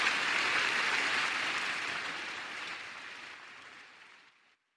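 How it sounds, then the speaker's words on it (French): Applause from an audience welcoming a speaker to give closing remarks at a formal session, a steady dense clapping that gradually fades out over several seconds and ends in silence. "Nous allons l'accueillir avec une salve d'applaudissements."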